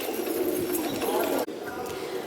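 Wild pigeons coo softly and repeatedly in the background on a rooftop, with steady outdoor ambience and a brief dropout partway through.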